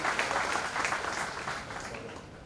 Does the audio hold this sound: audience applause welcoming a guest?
yes